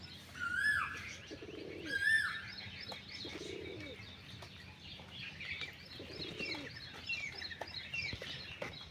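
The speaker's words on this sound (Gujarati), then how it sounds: "બે ત્રણ કબૂતર અહીં બેઠા" Two or three pigeons perched after a morning rain coo softly in a few spaced, low phrases, with sharp chirps and a brief flutter of wings early on, all fairly faint and distant.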